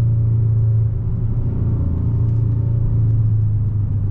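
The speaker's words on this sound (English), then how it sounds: "the exhaust has a nice subtle hum to it" A steady low engine and exhaust hum drones from inside a moving 2022 Hyundai Sonata N Line Night Edition, smooth and continuous with a slight dip partway through during downshifting, no voices.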